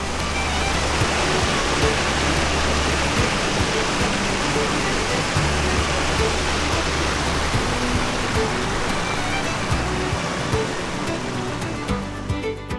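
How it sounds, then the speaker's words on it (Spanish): Meltwater gushes from beneath ice at a mountain base along a natural channel in the Pyrenees, a loud, continuous broadband rush close by with no pauses. "el agua brotando directamente bajo el hielo, abriéndose paso por este sendero natural, justo en la base de las montañas"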